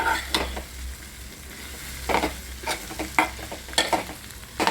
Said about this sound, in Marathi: कांदा भाजून झाले त्यात आपण आता पोहे ॲड केले